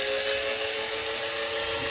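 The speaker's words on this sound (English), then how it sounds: "we are just going to give it a grind, and then we'll measure it out. Get an old spice mill." Electric spice mill grinding toasted cumin seeds, a steady high whirring drone held at constant loudness for the whole two seconds, close up and alone.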